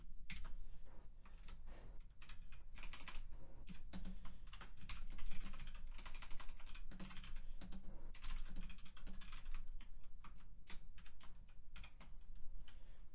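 Fast, steady typing of code on a computer keyboard, a dense run of close, quiet key clicks with no talk.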